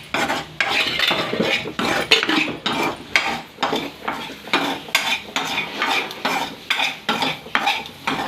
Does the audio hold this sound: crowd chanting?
no